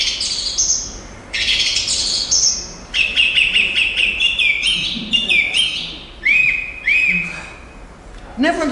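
Song thrush calling among other birds outdoors, bright chirping phrases repeated in short bursts, with one whistled phrase sounding in quick succession several times, fairly close and clear over a soft background.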